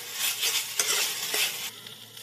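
Potato and flattened rice mixture stir-fried over a high gas flame, with a steady close sizzle and a few sharp scrapes of a spatula against the pan.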